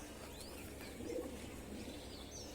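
A pigeon coos softly at mid distance, with a brief throaty burst near the middle over a steady background hiss and faint chirps; no one speaks.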